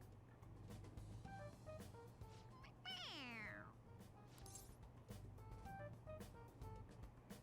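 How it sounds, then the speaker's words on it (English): A stuffed toy cat in the video game Persona 5 Royal lets out one clear, drawn-out meow when pressed, over steady game background sound. "It meows when you press on its head."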